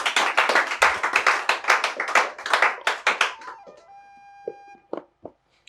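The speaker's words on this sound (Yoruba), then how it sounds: "Ẹ bá ń pàtẹ́wọ́ fún ìyá mi o." A studio audience on the Yoruba game show Masoyinbo claps for a contestant: brisk, steady hand claps for about three and a half seconds, then a held musical tone and a few scattered taps.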